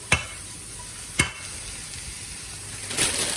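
Beef browning in a hot pan for a quick stir fry gives a soft, steady sizzle, broken by a few sharp clacks of a utensil against the pan.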